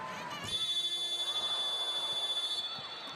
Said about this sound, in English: the buzzer going with the ball in the air